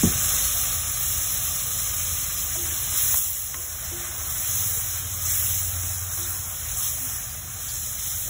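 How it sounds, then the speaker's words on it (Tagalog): Vegetables for pakbet sauté with fish bagoong in a pan, giving a loud, steady sizzle with hissing steam that runs unbroken throughout, with no voices. "nagigisa-gisa po sa ngayon. At syempre hindi mawawala yung bagoong isda"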